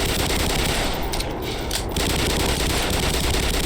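Automated turret in the video game Black Mesa firing a continuous, rapid, loud burst of machine-gun fire that stays dense and unbroken throughout.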